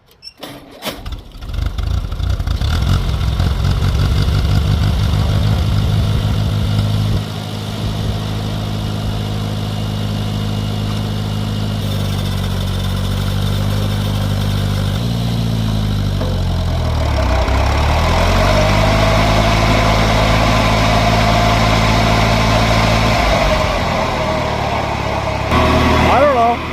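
A Farmall Cub tractor engine cranks and catches, then settles into a loud, steady running drone with the PTO mower engaged. The pitch sags and recovers partway through as the load shifts, and a voice speaks briefly over it.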